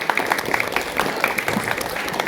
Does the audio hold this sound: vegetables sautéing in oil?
no